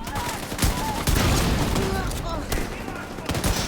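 Rapid automatic gunfire in The Division 2 during a firefight on The Summit floors, dense bursts of shots throughout, loud and close, with a voice speaking briefly over the fight.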